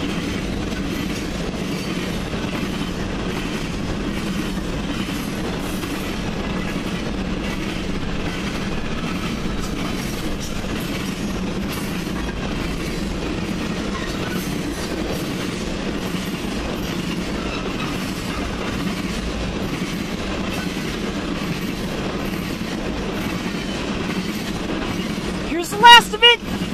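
CN freight train M341 passing at Ladysmith at night, a long steady rumble of rolling railcars with rhythmic clickety-clack from the wheels, close and continuous, with a brief louder burst near the end.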